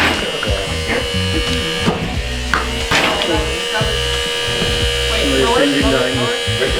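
A robot shooter prototype with stealth wheels spun by a 6,000 RPM motor gives a steady, loud electric whine and buzz, with a few sharp knocks as balls launch, under voices chattering nearby.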